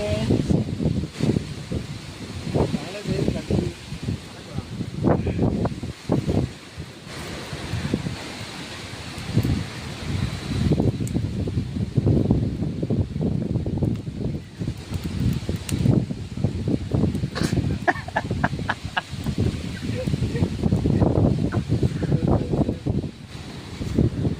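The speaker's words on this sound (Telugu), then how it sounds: "ఇట్లా మొత్తం అడ్డగోలే కొడుతూనే ఉన్నది గాలి" Strong wind roars and buffets the microphone nonstop, gusting in rough, uneven bursts with rustling throughout and no voices.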